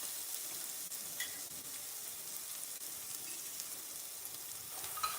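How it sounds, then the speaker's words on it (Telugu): Onions frying on a low flame for chicken curry give off a soft, steady sizzle, faint and continuous, with no voice over it. "లో ఫ్లేమ్లోనే ఫ్రై చేసుకోవాలి. ఆనియన్స్ మంచిగా ఫ్రై అవ్వాలి."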